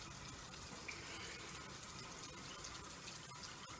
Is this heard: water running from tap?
yes